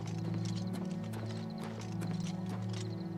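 Horse hooves clip-clopping in a steady rhythm with a brief neigh, heard in the video game Oblivion over a constant low game ambience.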